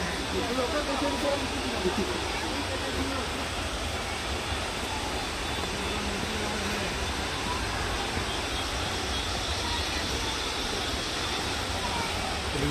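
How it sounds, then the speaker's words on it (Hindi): A monsoon-season waterfall at Tiger Point in Mainpat, Chhattisgarh, roars from close by as a steady, dense wash of rushing water that fills the whole clip without letting up. "झरने का साउंड एकदम बिल्कुल करीब से, पास से"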